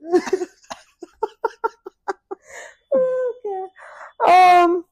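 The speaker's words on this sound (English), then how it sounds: "I'm gonna get into a coughing spree" A burst of coughing, a rapid series of short harsh coughs close up, trailing into strained wheezy breaths and a final loud hacking gasp.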